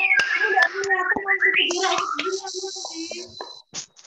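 Three sharp hand claps ring out at spaced intervals among children's voices during an elementary Indonesian language lesson.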